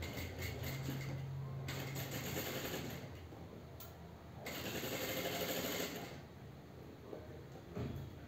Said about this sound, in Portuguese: Então, agora feito isso, vou costurar as pences.